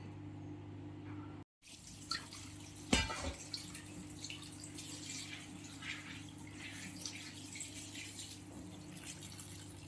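Mixed lentils being washed in water, with soft sloshing and dripping at low level over a steady background hum, including one sharper splash early on.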